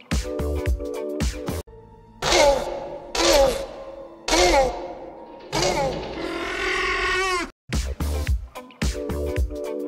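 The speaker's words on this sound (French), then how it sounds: "C'était le son du vélociraptor." Velociraptor dinosaur sound effect: a series of loud shrieking, screeching calls in separate bursts with short gaps, some with echo, all without talking.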